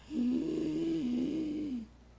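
A voice imitates an asthmatic child's wheezing breath, producing one drawn-out, raspy, snore-like tone that lasts under two seconds.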